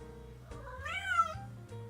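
A pet cat named Miku gives a single clear, close meow that rises and falls, with quiet game sounds in the background.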